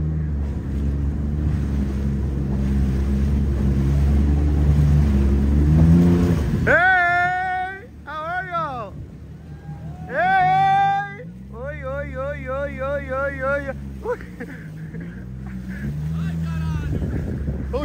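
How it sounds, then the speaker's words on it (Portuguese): Motorboat engine droning loudly on the open sea with low rumble, then fading as voices shout and chatter excitedly over the water noise. "tem um barco ali fazendo altas pistas"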